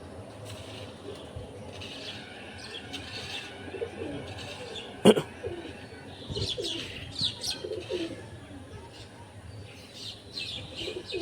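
A pigeon coos softly and repeatedly at close range on a rainy morning, with chirps and a sharp knock partway through over faint background noise.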